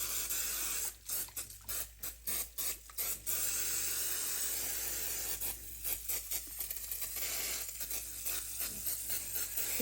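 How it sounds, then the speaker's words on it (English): Baker's Joy baking spray hisses onto a pie pan in a series of short, sputtering bursts, one long spray, and then more uneven clogged spurts, close and fairly quiet. "the first thing we're going to do is spray our pie pan"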